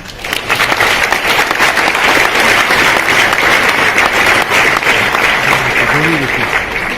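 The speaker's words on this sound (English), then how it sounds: "big applause, please" Audience applause at a global summit event in Dubai: loud, sustained clapping from a crowd in a hall, lasting several seconds with a brief voice surfacing near the end.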